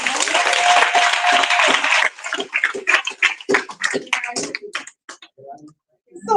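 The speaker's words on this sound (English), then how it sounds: "Give him another round of applause," An audience at a town hall meeting bursts into loud, dense applause for about two seconds. It breaks into scattered individual claps that fade to quiet.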